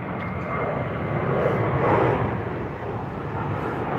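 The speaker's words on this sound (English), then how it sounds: "you can constantly hear the planes going by" Airplanes fly over near the Las Vegas airport, close to the UNLV campus, a steady broadband engine roar that swells toward the middle and then eases off, with no talking.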